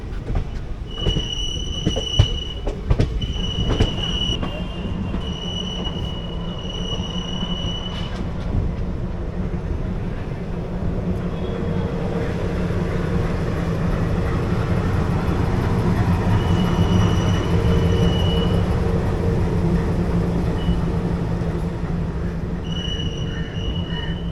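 The 14088 Runicha Express runs from Jaisalmer to Delhi, heard from aboard as a loud continuous rumble of rolling wheels with rhythmic clatter, a few sharp clicks early on and high squealing tones that come and go.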